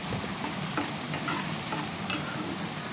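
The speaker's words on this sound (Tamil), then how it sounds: "அந்த ஆயில் கூட நல்லா மிக்ஸ் பண்ணணும். ஆனியன் நல்லா வதங்கணும்." Onions sizzle steadily in hot oil while a spoon stirs them in a pan for Indian-style egg pasta, a close, continuous crackle with scraping strokes and no talk.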